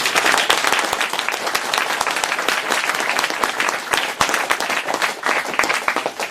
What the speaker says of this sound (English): please put your hands together and give a big round of applause